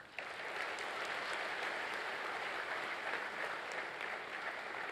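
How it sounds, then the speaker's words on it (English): A graduating class at a university convocation claps in a sustained, dense round of applause, steady throughout and heard from a moderate distance, with no one speaking over it. "give yourselves a big round of applause"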